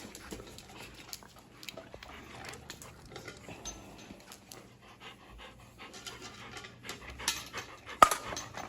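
A dog pants steadily in quick, soft breaths close by, with faint rustling and a sharper noise near the end.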